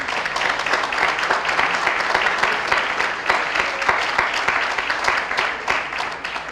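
An audience applauds to welcome panelists at a literature and music event in Nicaragua, sustained dense clapping that holds steady throughout, close and fairly loud, with faint voices underneath.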